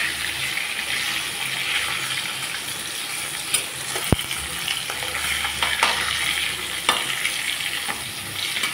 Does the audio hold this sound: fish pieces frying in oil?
yes